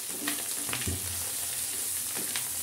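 Fish roe sizzles and fries in a pan while being stirred, a continuous soft crackle with a few scraping clatters of the spoon against the pan.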